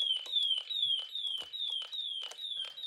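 Shrill falling electronic tones pulse rapidly from a homemade Snap Circuits fire alarm, repeating evenly about eight times in under three seconds, clear and moderately loud with small clicks between.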